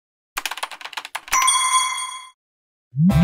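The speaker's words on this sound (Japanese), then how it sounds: "ピンポン。" A bright electronic ding-dong chime in a comedy skit rings out clearly and sustains with a ringing tail, preceded by a quick run of clicky, typing-like taps; no voices are heard.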